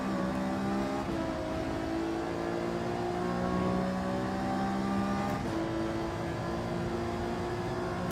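A race car engine in Gran Turismo 7 drones steadily with layered harmonic tones, pitch climbing and dropping sharply at gear shifts and braking, loud and continuous with no voices over it.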